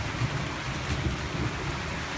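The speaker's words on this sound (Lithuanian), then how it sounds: "Sako jisai, kad lyja." Rain falls outdoors in cold weather at Trakai, a constant dense hiss mixed with wind buffeting the microphone, steady and fairly loud throughout with no speech.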